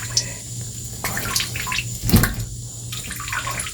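A small pet bluegill is dropped into a water tank, giving a brief close splash partway through over steady background hum and tank water noise.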